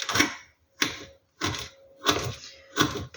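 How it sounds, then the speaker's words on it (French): Knife cutting fruit into small cubes on a board for fruit kefir, five sharp, evenly spaced chopping strikes about every 0.65 seconds, close and crisp. "le coupe en petits cubes"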